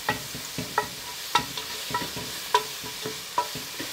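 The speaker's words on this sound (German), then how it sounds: "jetzt werden auch Knoblauch und Zwiebeln im heißen Topf mit angebraten." Garlic and onions frying in olive oil in a hot pot, a steady soft sizzle broken by repeated sharp scrapes and clicks of a utensil stirring, close by and with no one talking.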